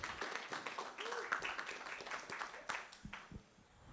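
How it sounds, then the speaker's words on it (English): At a student candidates event, an audience claps for welfare candidates, quiet and somewhat uneven with distinct individual claps standing out. "a big round of applause for our welfare candidates"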